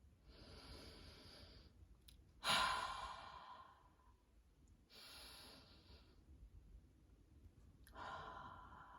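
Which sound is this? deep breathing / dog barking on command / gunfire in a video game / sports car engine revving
deep breathing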